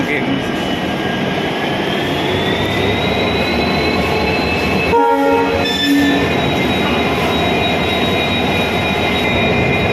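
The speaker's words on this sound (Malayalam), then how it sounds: "ഞങ്ങൾ വന്ന ട്രെയിനിൻ്റെ പുറകിൽ നിന്ന് എൻജിൻ വേർതിരിക്കുകയാണ്" A train sits at a station with a loud, steady mechanical hum and sustained whining tones, a clank midway as the engine is uncoupled, and voices in the background.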